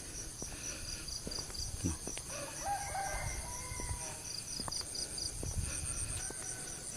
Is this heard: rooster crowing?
yes